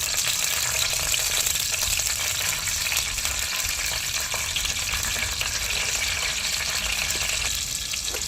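Tomatoes fry in hot oil with a strong, continuous sizzle while a spoon stirs them, adding soft scraping strokes. The cooking is heard up close, with no talking.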